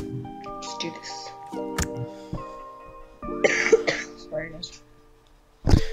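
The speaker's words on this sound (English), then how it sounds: "Every single time that I coughed, I would just be like, sorry." A person coughs several times amid talk and background sounds, one harsh cough near the start and a louder burst at the end.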